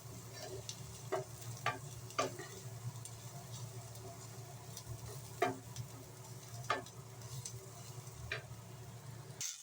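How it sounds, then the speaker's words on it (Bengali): Onions and green chilies fry in a pan for a taki fish mash, a soft, continuous low sizzle punctuated by intermittent scraping stirs and small ticks, quiet and close. "পেঁয়াজটা আমার ভাজা ভাজা হয়ে গেছে"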